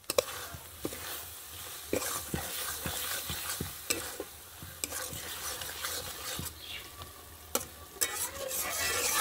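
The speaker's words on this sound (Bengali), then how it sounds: "এখন মোচাটা আমি দিয়ে দেবো।" Chopped banana flower hits fried masala in a pan and is stirred, bringing loud repeated spatula scrapes and clacks over a continuous sizzle, with no talking.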